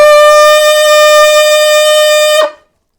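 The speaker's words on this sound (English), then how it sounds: "add the octave key for a high B." An alto saxophone sustains a bright, high B with the octave key pressed. The single note is loud and close, holds steady for over two seconds, then cuts off.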